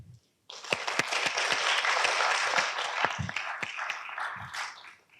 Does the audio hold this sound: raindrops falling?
no